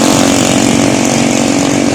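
Loud motorcycle engine noise along a seaside boulevard in Lingayen, Pangasinan, a continuous rough droning roar with no pauses, close and dominant.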